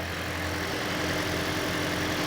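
A Lexus engine idles steadily just after its first start following a head gasket repair, a constant even hum with no talk over it.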